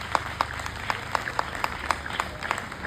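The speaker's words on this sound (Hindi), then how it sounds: "एक बार दिल से अपने पेरेंट्स के लिए जोरदार तालियां बजाइएगा" A seated audience at a talk by Everest mountaineer Megha Parmar applauds for their parents, with sharp individual claps spaced out over a soft, thin wash of clapping. The sound is moderately quiet and reads as a modest crowd.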